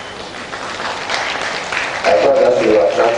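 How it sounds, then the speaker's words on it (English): An audience at a university workshop applauds with a steady patter of many hands, growing louder partway through, while a voice is heard faintly in the background. "I thought that will attract a bigger round of applause."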